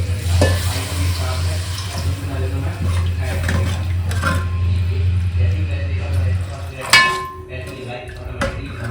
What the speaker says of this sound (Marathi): आता यात थोडंसं पाणी टाकते